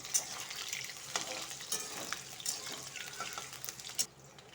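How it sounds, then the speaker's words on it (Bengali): Oil sizzles steadily as potatoes fry in a pan, with occasional stirring scrapes and soft crackles, close by and with nobody talking. "আলুটা একটু লাল লাল করে ভেজে রেখে নিব"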